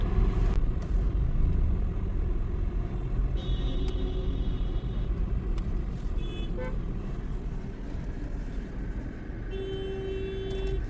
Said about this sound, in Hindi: देखिए कितना ज़्यादा ट्रैफिक है।